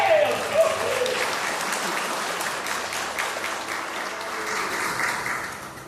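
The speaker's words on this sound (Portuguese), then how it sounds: "Aplauda o Senhor." Church congregation applauding in praise during a pastor's sermon: a steady wash of many hands clapping, sustained and fairly loud for the whole stretch, with a brief voice near the start.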